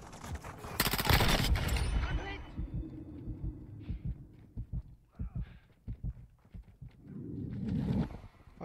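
Gunfire in the video game Modern Warfare 2: a loud burst of rapid shots early on, then scattered single and clustered shots mixed with shouting players' voices and in-game chatter.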